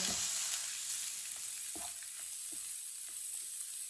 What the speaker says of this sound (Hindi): सब डालना, 1 मिनट के लिए पका लेते हैं खीरा डाल के।